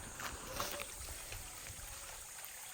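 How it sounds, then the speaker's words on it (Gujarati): Faint, steady rushing of a flowing stream in the Girnar forest near Junagadh, a soft continuous wash with slight trickling texture in a quiet outdoor setting. "પાણી ચાલુ જો ઝરણું બહુ મસ્ત આવે છે"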